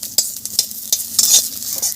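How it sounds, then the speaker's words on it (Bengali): Whole cumin and chopped ginger sizzle in hot mustard oil in a pan while being stirred, giving crisp crackling fizz with quick scraping stirs in short irregular bursts, close and fairly loud. "আদা জিরে করে তেলের উপরে সামান্য ভেজে নিচ্ছি।"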